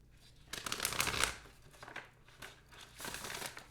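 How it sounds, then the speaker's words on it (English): Oracle card deck being shuffled by hand, a few crisp riffling and sliding bursts of card noise close by, alone with short pauses between them. "Let me just do this last shuffle."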